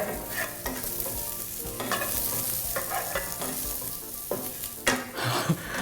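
Chilies and coriander root stir-fried in a pan for a vegetarian Thai basil-style dish, a steady close sizzle with repeated scraping stirs of a utensil against the pan, no voices.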